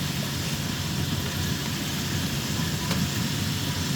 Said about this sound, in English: They are frying. Hear that sizzle?